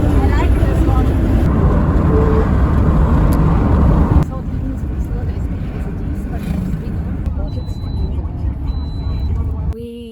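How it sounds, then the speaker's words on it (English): A car on a long highway trip across Zambia cruises with a constant engine drone and road roar, which drops a little partway through before continuing steadily. "We have been driving for just under 4 hours now."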